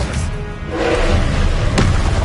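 A Confringo fire spell in Hogwarts Legacy goes off as a muffled, booming explosion with a heavy low thud, followed by a later sharper impact, all over a rumbling game background.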